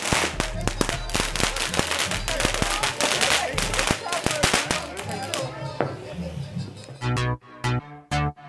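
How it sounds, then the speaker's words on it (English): Fireworks and firecrackers burst outdoors on New Year's, a dense run of loud sharp cracks and pops with rumbling booms, thinning into a few heavy isolated blasts near the end, while people talk nearby. "There was like fireworks"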